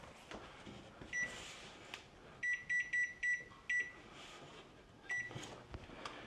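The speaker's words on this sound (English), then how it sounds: "I'm going to go ahead and turn on my oven." A kitchen oven's control panel gives a series of short, clear electronic beeps as it is set to preheat to 325 degrees, with a few single beeps and then a quick run of five, close by in a quiet room.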